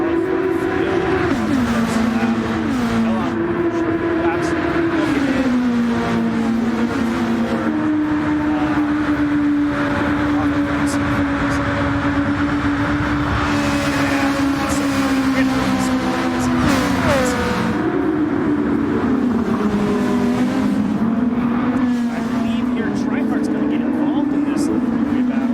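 Audi RS Group 2 race car engines in a sim racing video game, a loud sustained drone shifting pitch through gear changes and revving, with a commentator talking over it throughout.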